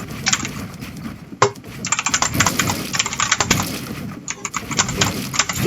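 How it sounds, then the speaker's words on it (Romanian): Rapid keyboard typing and clacking key presses in bursts during a Fortnite session, close and fairly loud, with clustered taps and brief pauses. "Se aude tare tastatura mea"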